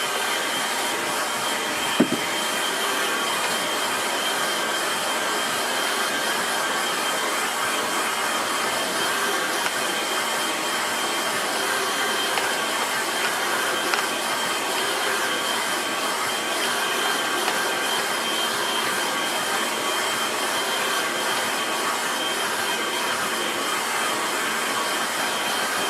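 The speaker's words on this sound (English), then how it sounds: "I want to make sure the paint's dry, otherwise I'll make a right mess of it. Switch to the hairdryer." A hairdryer blows steadily on watercolour paint on paper, a continuous loud whirring hiss holding level throughout with a brief knock near the start.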